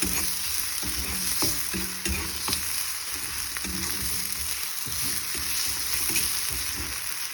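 Ginger garlic paste sautéing in a pan for a shrimp curry gives a steady close sizzle, with repeated scrapes and clicks from stirring scattered throughout.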